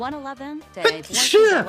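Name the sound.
sneeze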